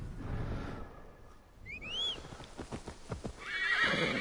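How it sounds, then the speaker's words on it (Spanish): A horse in Assassin's Creed Valhalla gives a clear, rising whinny partway through, followed by a run of hoof clip-clops on the ground, with a bright, steady game ambience swelling at the end. "yo voy a coger el caballo"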